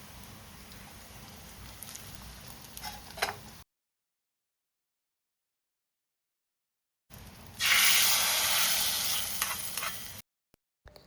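Hot tempering with shallots is poured into a drumstick-leaf and jackfruit-seed curry, first a low stir, then a sudden loud, bright sizzle that hisses steadily for a few seconds before cutting off.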